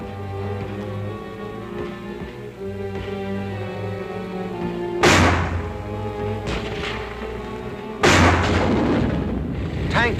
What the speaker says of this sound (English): Tanks blast their way forward.